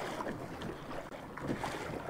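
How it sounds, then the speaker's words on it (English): Waves wash and churn on a mountain lake or stream near Mount Shasta, a steady rough rushing with gusty wind noise on the microphone and no voices. "These waves are getting pretty big."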